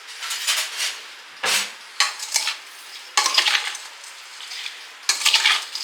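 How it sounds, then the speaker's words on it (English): A tomato chutney mixture with salt is stirred and mixed in a container, giving repeated scraping, sloshing strokes in bursts, close and fairly loud, with brief pauses between strokes and no talking. "So we put in everything and we'll give it a good mix."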